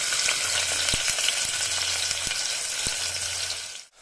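Onions for chicken curry sizzle loudly in hot oil, a dense steady frying hiss with a few sharp spatula taps against the pan, then a sudden stop at the end.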